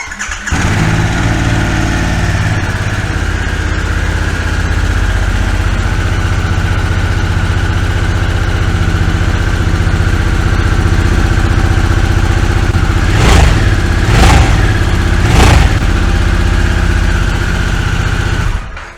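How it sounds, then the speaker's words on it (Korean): A new Harley-Davidson Sportster S with its stock exhaust runs loud and close, steady idle rumble throughout with three sharp throttle blips near the end, no talking. "지금부터 간단하게 순정 스포스터 S의 배기음을 한번 들어보도록 하겠습니다"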